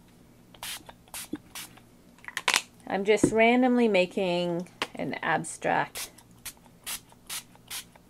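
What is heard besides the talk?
ink spray misting onto paper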